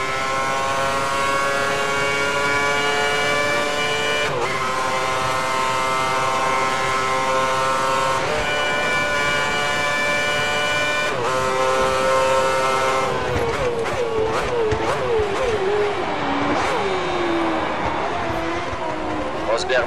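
Race car engine in the F1 2010 game at Spa-Francorchamps, a loud continuous high-pitched whine climbing through the revs with brief dips at gear changes, then a rougher warbling stretch near the end.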